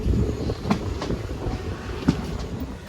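A train rumbling along the tracks near Punalur, with a steady low roar and a few sharp rhythmic clacks from the wheels.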